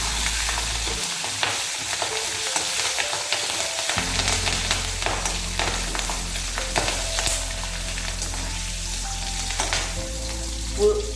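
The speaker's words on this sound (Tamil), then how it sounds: "பூண்டும் பச்சை மிளகாவும் நல்லா ரோஸ்ட் ஆகிடுச்சு" About five chopped green chillies and six large garlic cloves fry in a pan, giving a steady crackling sizzle with frequent stirring clicks and a low hum under it. No one speaks.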